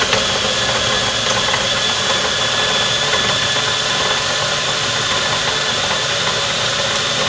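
A blender mixes homemade cloth diaper laundry detergent with a loud, steady motor whir and grinding rattle, close by and unchanging throughout, with no voices.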